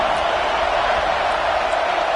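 Football stadium crowd roaring in reaction to a big third-down play in a Red River rivalry comeback game, a dense, steady wall of cheering and noise sustained throughout.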